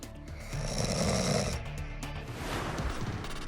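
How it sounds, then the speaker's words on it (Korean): A sleeping adult snores loudly and close by, with a deep rattling inhaled rasp that swells, eases off, then resumes in an uneven rhythm. "4명이 겪고 있다는 코골이."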